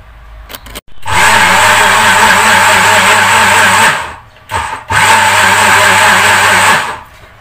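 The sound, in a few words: blender mixing ingredients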